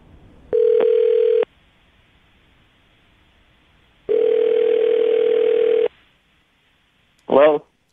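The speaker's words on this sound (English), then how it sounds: "I'm going to dial the phone number, see if we can get him on the phone" Telephone dial tone and dialing: two long steady tone bursts separated by a pause, then a short wavering ring-like burst at the end, loud and clear with no talk over it.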